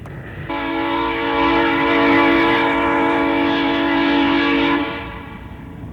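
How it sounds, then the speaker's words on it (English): A midnight train's horn blares steadily for several seconds as it passes a city crossing, a loud sustained chord over rumbling rail noise that fades near the end. "Across town, the midnight train comes through on schedule, sassing back at the cars waiting at a crossing."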